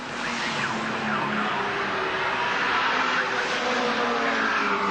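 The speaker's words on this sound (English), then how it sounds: "So here comes Warren Cullen down again into Forest Elbow, back onto Conrod Straight." Holden VK Commodore touring car racing at Bathurst in 1984, coming down through Forest Elbow onto Conrod Straight, a loud sustained engine roar with tyre noise, steady and close throughout.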